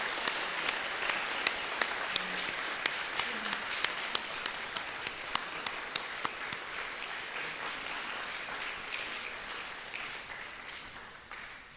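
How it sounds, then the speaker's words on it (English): A hall audience at a golden jubilee talk breaks into sustained applause, dense clapping with a few sharp individual claps standing out, slowly fading over the last couple of seconds. "Let's give him a round of applause."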